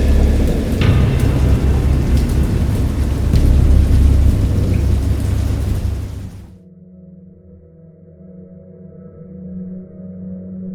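Heavy rain roars with deep rolling thunder, then cuts to a quieter, muffled low rumble of storm in the last few seconds.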